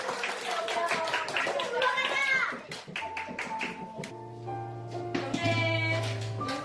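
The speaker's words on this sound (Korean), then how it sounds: "자, 박수!" Children clap together in quick bursts at a shadow-play performance in a library, mixed with bright xylophone-like notes and young voices chattering nearby.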